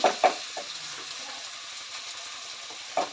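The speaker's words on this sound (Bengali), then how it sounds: "তাই একটু ভেজে ভেজে করছি" Ginger and garlic paste frying in oil in a pan for a fish-head ghonto makes a soft, low sizzle, broken by a few sharp clinks of stirring at the start and near the end.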